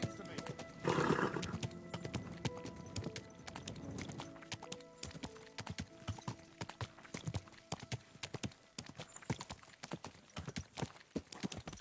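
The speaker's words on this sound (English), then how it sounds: "watch out with that horse" Horse hooves clip-clopping in the medieval video game Kingdom Come, a quick irregular run of sharp hoof knocks close by, with a loud whinny near the start and faint voices in the background.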